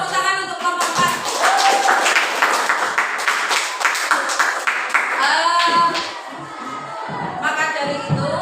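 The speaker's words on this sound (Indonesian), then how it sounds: "Tepuk tangan untuk kelompok 4." Clapping from a class during a lesson on prayer and remembrance breaks out for a group of students, mixed with scattered voices and cheers, and then thins out toward the end.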